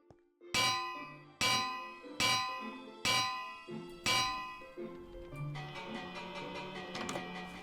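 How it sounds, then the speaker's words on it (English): A bell above a shop door in Minecraft rings five times in a steady sequence, each bright clanging strike ringing out and decaying, followed by quicker, overlapping dings. "I've also got a bell above the door"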